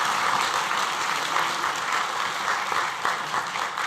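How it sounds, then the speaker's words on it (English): Graduation audience applauding Café Operations and Hospitality students at a School of Business Studies ceremony, a steady dense wash of many hands clapping throughout, moderately loud and without pauses. "Clap, you can clap."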